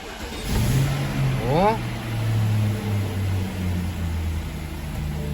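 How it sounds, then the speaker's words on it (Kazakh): A BMW car engine starts and settles into a steady idle as it warms up, with a rising whine at the start and then a constant low hum close by, while a voice talks over it. "Көлік әдем болып қызды"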